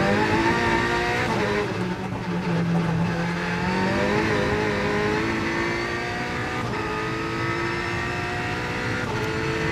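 Onboard cockpit sound of the Alpine A110 Pikes Peak race car at the 2024 Goodwood Festival of Speed, a loud continuous engine note rising and falling through the gears as the car is driven hard, with no talk over it.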